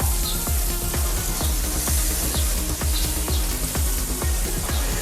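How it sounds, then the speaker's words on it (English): Steak and sausage grilling on an outdoor barbecue, a dense, steady sizzle with crackling pops at close range, heard alone without talking. "Grilling on the barbecue."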